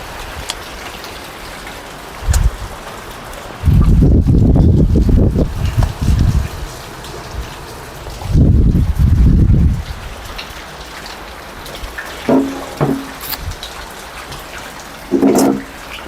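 Heavy rain driven by strong wind, with steady downpour hiss under several loud surging gusts that roar in and fade, plus a few brief knocks.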